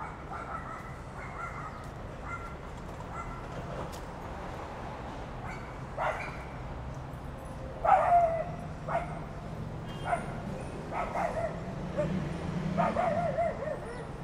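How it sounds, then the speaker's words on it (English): A dog on a Manhattan street near South Street Seaport gives a run of short barks and high yips, scattered irregularly over steady city traffic hum, with faint voices nearby. "Seems like a happy dog."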